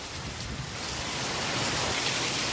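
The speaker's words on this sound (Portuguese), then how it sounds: "Olha aqui no corredor atrás como é que tá chovendo." Heavy rain pours down in Tocantins, Brazil, with runoff streaming through a back corridor like a creek, a dense continuous hiss that swells louder partway through, with no talking.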